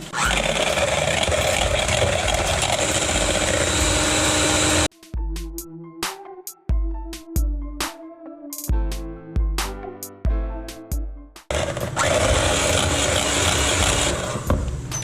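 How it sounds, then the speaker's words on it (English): Electric hand mixer beating sweetened whipped cream for cream puffs, a loud steady whirring drone that stops in the middle for a run of short clattering knocks, then starts up again at full strength. "I'm just gonna simply beat it with a mixer until it's fluffy and forms peaks"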